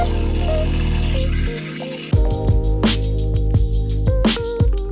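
Tap water runs during a guinea pig's rinse in the bath. A steady close stream cuts off partway through, then gives way to splashy, irregular splashes and drips.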